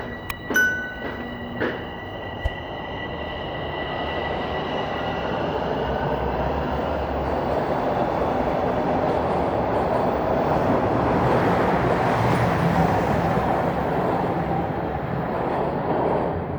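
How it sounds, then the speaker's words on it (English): A train rolls into a station in downtown Toronto after the season's first snow, with a few sharp clanks and tones at first, then a building rumble and hiss of rolling wheels that grows and holds. "train I want has just rolled in"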